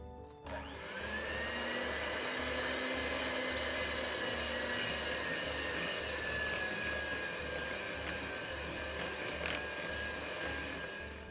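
An electric mixer runs on low speed through chocolate cream cheese frosting with sifted confectioner's sugar, a steady close motor whir with a faint rhythmic pulse that holds unbroken throughout, and no one speaks.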